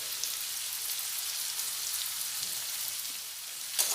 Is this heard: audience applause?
no